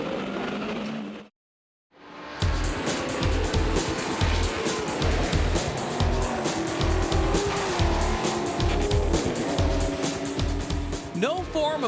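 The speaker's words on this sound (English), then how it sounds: "Must have spun out or went off track." A race car on a track, loud engine roar and rapid pulsing noise with squealing tires, starting after a brief silent gap and continuing close and intense, a voice talking over it.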